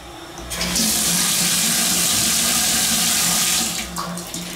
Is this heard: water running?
yes